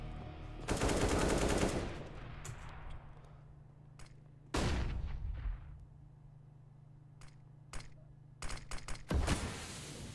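Automatic gunfire from Counter-Strike: Global Offensive on the Mirage map, with two loud sustained bursts and a later string of short shots, close and dominant over a quiet background.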